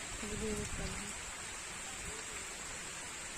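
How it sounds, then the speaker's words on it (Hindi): Soft, steady patter of rain falling on surfaces, a constant hiss, with a brief murmur of voices at the start. "देखिए बारिश पड़ रहा है,"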